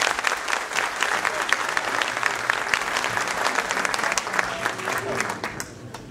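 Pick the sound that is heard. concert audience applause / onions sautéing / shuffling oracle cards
concert audience applause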